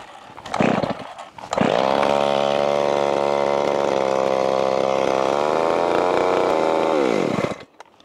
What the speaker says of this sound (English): And I don't like starting a saw like this,